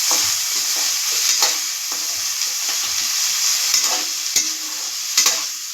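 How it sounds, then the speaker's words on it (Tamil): Chicken tossed with curry leaves in a hot pan for chicken thokku with small onions, a steady close sizzle and frying hiss under repeated stirring scrapes and spoon knocks. "கருவேப்பிலை கொஞ்சமாக போட்டு நல்லா வதக்கி எடுத்துக்கலாம்"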